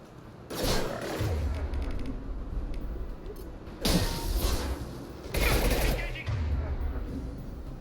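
Machine pistol gunfire in Mass Effect 2, loud bursts of rapid shots repeating in several volleys over a steady mechanical background, with sharp attacks at each burst start.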